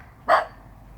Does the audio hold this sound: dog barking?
yes